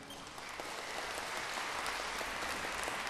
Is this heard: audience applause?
yes